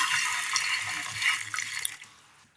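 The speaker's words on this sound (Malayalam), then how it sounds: "ഒരൽപ്പം വെള്ളം ഒഴിച്ച് കൊടുക്കാം." Water pours steadily into a bowl of cut jaggery, a close, continuous splashing stream that trails off into a few drips as the pour stops.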